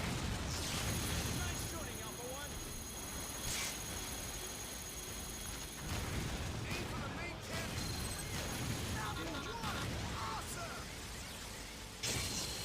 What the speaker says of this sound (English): You have practically infinite rocket launcher.